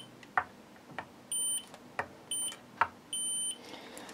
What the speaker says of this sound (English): So just so you can hear it beeping that there is continuity